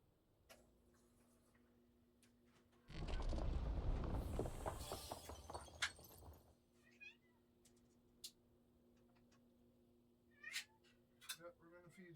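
A pet cat meows several times in short separate calls at moderate distance, under a loud burst of broadband noise early on and faint ticking in the background.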